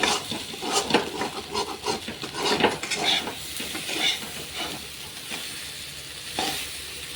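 Elephant foot yam being stirred and roasted with masala in a pan, with steady scraping of a spoon against the metal and soft sizzling throughout, close and continuous.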